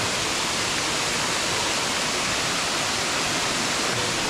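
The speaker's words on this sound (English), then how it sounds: "Pretty cool fucking waterfall," A waterfall in Bali roars as a steady, loud, broadband rush of falling water, continuous and close for the whole stretch with no voices over it.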